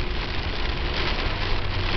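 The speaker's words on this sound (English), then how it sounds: "it's Now raining" Rain drums steadily and densely on a storm chasers' car, a loud, close, unbroken wash of patter with no voices over it.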